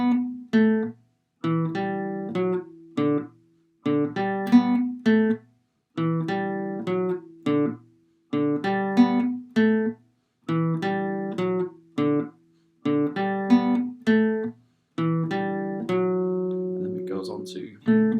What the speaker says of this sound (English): so after this is the solo that sounds like this